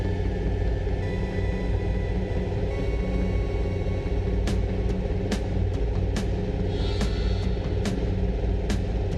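A truck drives in the video game Firebird, a steady low engine rumble and road drone holding throughout, with sharp clicking ticks layered on top in the second half.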